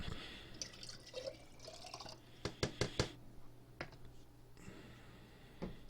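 Water drips and splashes while a wet Fire 7 5th-generation tablet circuit board is rinsed, with a quick cluster of sharp drips in the middle and scattered fainter drops, all quiet.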